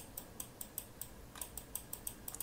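Fingers tap out a steady run of soft, close keystrokes on a computer keyboard while C code is written, faint and alone with no talking.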